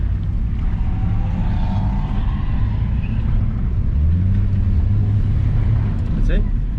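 Car driving slowly around a skid pan during a drift lesson at QR Raceway, a steady engine drone that rises in pitch partway through, heard close from inside the cabin.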